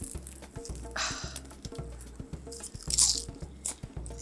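Thin, crisp Turkish borek pastry crunches and crackles as it is broken apart close by, with light flaky bursts over a low background hum.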